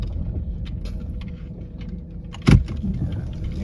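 A Chevy Lumina APV van, unused through the winter, cranks over with a sharp burst near the middle while a steady engine rumble carries on close by, with faint jangling alongside.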